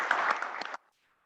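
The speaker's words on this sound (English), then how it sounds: "Big round of applause for Joseph." A founder showcase audience gives a short burst of applause, clapping densely for under a second before cutting off abruptly into near silence.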